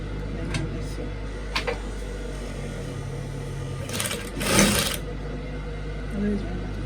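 Sewing machine stitching on a household machine, a steady low mechanical hum with a brief louder burst of needle running, and clicks and a voice around it.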